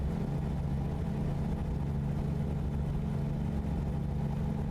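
A low, steady truck engine drone in American Truck Simulator hums continuously with a strained, labored quality, working hard, loud and close with no talking.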